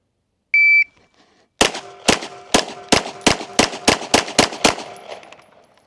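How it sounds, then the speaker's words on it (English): A shot timer gives one short electronic beep, then a Strybog pistol fires ten rapid, sharp shots in a steady, quickening string, loud and close with no voices. "I got the Strybog. We're going to shoot 10 rounds this time."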